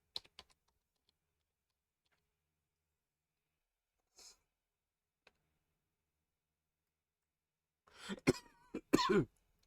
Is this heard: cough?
yes